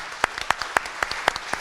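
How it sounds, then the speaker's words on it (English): Scattered applause at a community conversation on homelessness, a few separate hand claps sounding at an uneven rhythm rather than a full crowd ovation. "Please give her a round of applause for being here."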